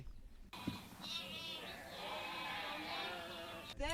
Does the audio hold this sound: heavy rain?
no